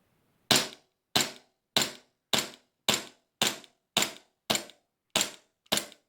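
A Stark Arms airsoft Glock 42 pistol fires ten sharp, evenly spaced shots, each a crisp close snap with a quick decay and near silence between them.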